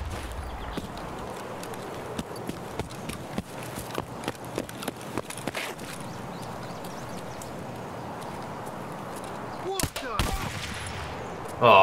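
Gunfire in Escape From Tarkov, a string of sharp shots in fairly even succession, then a louder burst near the end over a steady background hiss.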